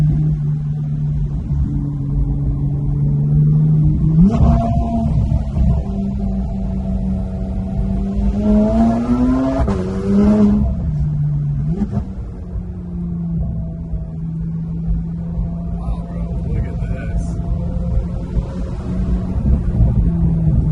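A Porsche GT3 sports car drives along mountain roads, its engine revving through rising and falling tones as it shifts gears, loud and steady from inside the cabin.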